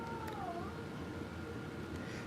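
A female cat in heat lets out a faint, wavering meow against a steady background hum, with no talking.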